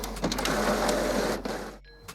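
An Epson WorkForce Pro WF-4725DWF printer's top lid is lifted with plastic clicks and mechanical rattling over about two seconds, close up, before it goes quiet with a faint final tap.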